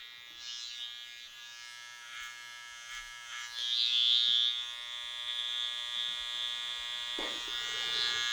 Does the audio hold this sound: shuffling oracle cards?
no